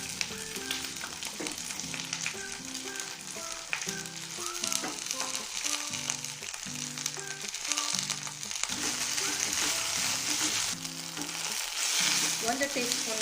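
Whole spices fry and get stirred in hot oil for hotel-style pulao, a loud, steady sizzle with scraping stirs layered over background music.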